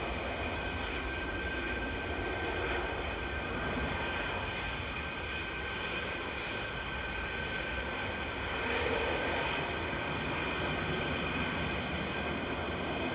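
A TUI airliner departs Manchester Airport, its engines giving a steady, fairly distant roar with a faint high whine, swelling a little near the end, no voices.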